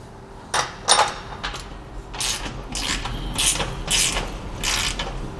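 A ratchet wrench tightens U-bolts on a Malone MicroSport heavy boat trailer, giving a handful of sharp, close clicking bursts with brief pauses between them over a steady low hum.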